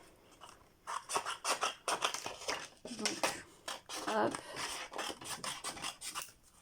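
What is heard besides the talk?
cutting white paper with scissors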